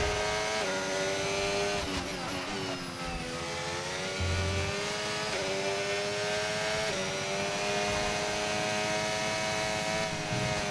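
A Formula 1 race car in the game F1 25 at Jeddah, its engine screaming loud and steady with rising and falling pitch as it revs through gear changes, alone without talk.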